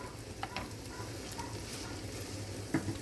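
Half an onion and finely chopped garlic fry in a pan, giving a low steady sizzle throughout with a few faint stirring taps near the end.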